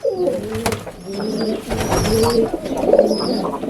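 Pigeons coo steadily inside a loft, overlapping throaty calls from several birds, close and clear, with no voices.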